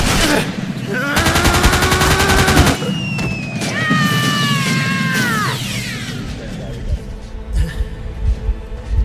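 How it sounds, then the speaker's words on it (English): Sustained rapid-fire gunfire from a sound-effect track in a sci-fi audio drama, loud and close, with bursts overlapping warbling whistles, then tapering off. "Target sighted. Opening"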